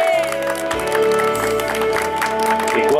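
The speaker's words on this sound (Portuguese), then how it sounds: "Uma salva de palmas para nossa homenageada." A crowd applauds a birthday honoree at a surprise celebration in São Caetano do Sul, steady clapping mixed under loud, sustained music.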